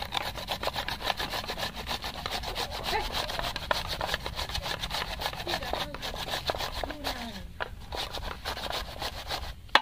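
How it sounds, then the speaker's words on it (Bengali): A raw potato is rubbed against a grater for a crispy potato snack, making steady, rapid rasping strokes that repeat in a close, even rhythm for several seconds. "এটাকেও গ্রেট করে নেব।"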